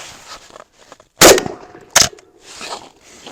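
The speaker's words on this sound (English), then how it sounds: "we're just going to be shooting some buckshot and just testing for function" Two sharp, loud shotgun blasts from a Beretta 1301 Mod 2 firing buckshot into an earthen berm outdoors, spaced under a second apart with quiet in between.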